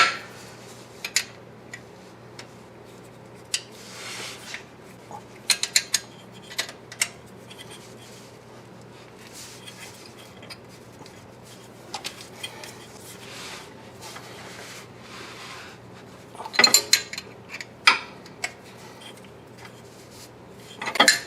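A wrench tightens the starter solenoid bolt on a Ford Mustang V6, making scattered faint metallic clicks and ratcheting scrapes against a quiet background, with a louder burst of clinks near the end.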